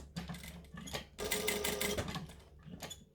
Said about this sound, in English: So we're going to start here, back stitch.